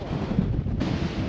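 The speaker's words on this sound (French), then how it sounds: "le vent c'est vraiment horrible. Ça souffle pas mal" Strong wind at Mont Saint-Michel roars into the microphone as dense, continuous buffeting, loud and close, with no voice over it.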